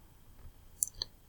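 Two crisp, quiet mouse clicks come in quick succession on a Flipsnack login page, set against a near-silent background.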